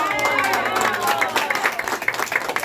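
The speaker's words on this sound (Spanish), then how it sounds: "¡Aplausos!" An audience applauds at a tenth anniversary event for the Machiques de Perijá municipality in Zulia, with a patter of clapping that grows choppier toward the end and a voice carrying over it at the start.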